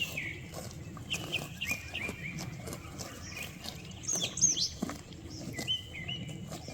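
Cows and calves grazing in a pasture, tearing and chewing grass in a steady run of close, crisp ripping bites, with birds chirping in the background.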